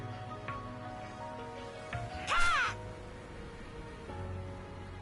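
A crow caws once in a video game, a short harsh call standing out over a steady low ambient hum with faint background music.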